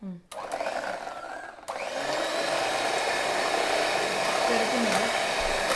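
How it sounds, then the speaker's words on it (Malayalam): An electric hand mixer whirs steadily as it beats cake batter with vanilla essence for an apple soufflé, starting in short bursts then running continuously and loud, with a voice briefly heard at the start. "ഇനി ഹാൻഡ് മിക്സി ഉപയോഗിച്ച്"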